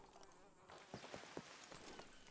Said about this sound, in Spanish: Se lo están comiendo las moscas.